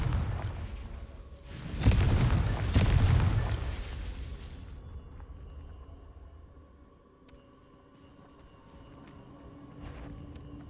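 A Confringo blasting spell detonates in Hogwarts Legacy with a loud booming burst of roughly two seconds, then rumbles away into a quieter, low ambient tail.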